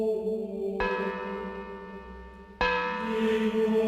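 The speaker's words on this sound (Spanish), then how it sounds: "Estas 8 campanas tienen su nombre" Two loud cathedral bell strikes, a couple of seconds apart, each ringing out with a long, shimmering hum that lingers between them.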